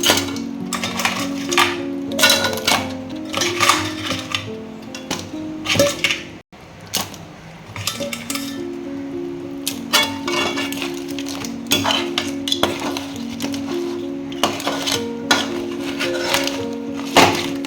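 Crab pieces for grandma-style pepper crab (nandu thokku) are tipped into a pan of masala and stirred, giving close, busy clattering, scraping and metallic clinks that run almost continuously with a short pause midway.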